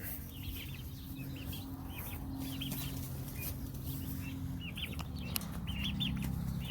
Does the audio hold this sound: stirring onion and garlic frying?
no